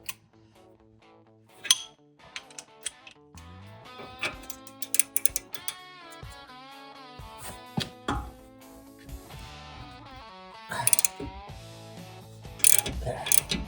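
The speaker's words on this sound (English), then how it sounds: "I'm gonna try cracking nut with my 18 mil. See if the wrench will do it" A wrench ratchets on an 18 mm nut on a BMW X5 M (E70) sway bar link, giving repeated clicking pawl bursts and metallic clinks close by in a quiet garage.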